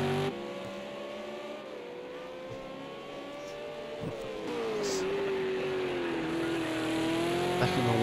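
A race car engine drones steadily through an endurance race. Its pitch rises and falls continuously as it revs, and a louder stretch of engine noise fills the second half.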